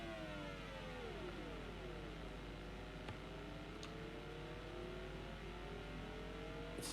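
A car engine in a ZX Spectrum Next racing game drones and revs steadily, its tone sliding down then holding as a continuous synthetic whine, with a couple of brief clicks.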